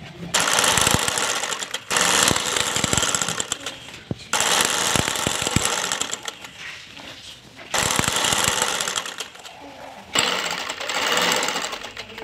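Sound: sewing machine stitching dress lining

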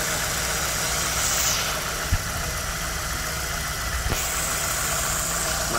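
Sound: car petrol engine idling smoothly

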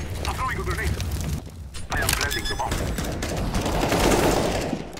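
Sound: AK rifle gunfire in a video game

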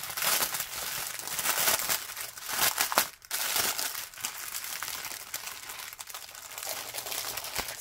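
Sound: crinkly packaging of craft supplies being handled

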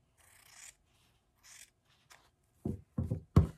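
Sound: cutting fabric with scissors

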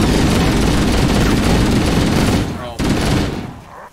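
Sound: gunfire in a video game

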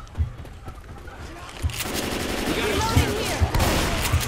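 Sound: gunfire shooting at tank in video game Left 4 Dead 2

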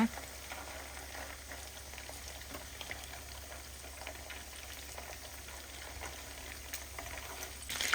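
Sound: pork chunks frying in oil with black pepper

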